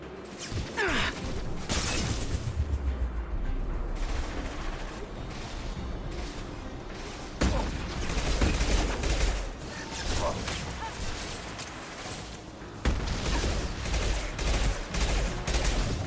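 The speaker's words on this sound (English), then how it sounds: "Taking heavy fire!" Rapid gunfire and impacts in a Mass Effect 2 combat scene, with dense bursts of shots, crashes and sudden loud blasts. Voices talk over the fighting throughout.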